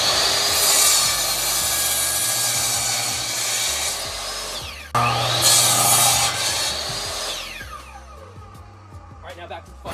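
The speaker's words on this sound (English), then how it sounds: "Be safe with these saws. Cutting 4x4 posts can be a little dangerous." A saw cuts through a 4x4 wooden post in long rasping strokes, loud and close, in two sustained bursts that break briefly at the midpoint and taper off toward the end.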